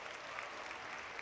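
At a school graduation ceremony, the audience applauds the twelfth-grade graduates with soft, distant, continuous clapping at low volume and no talking.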